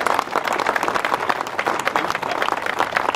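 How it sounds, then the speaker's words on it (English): A dense burst of audience applause, many hands clapping continuously and evenly throughout. "huge round of applause for Michael Coxen from North Sales."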